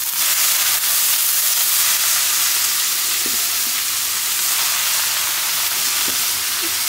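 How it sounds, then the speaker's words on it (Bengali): Onion, green chili and garlic frying together in hot oil in a pot, a loud, continuous hissing sizzle close by that holds steady throughout, with a few faint knocks and no speech. "তেলের উপরে পেঁয়াজ, কাঁচামরিচ, রসুন সব দিয়ে একবারে বসাই দেব।"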